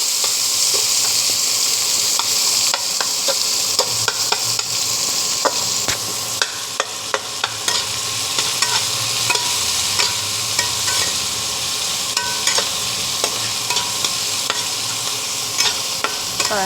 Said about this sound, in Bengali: তারপরে আমি পেঁয়াজটা দিয়ে দিয়েছি। পেঁয়াজটা একটু ফ্রাই হবে।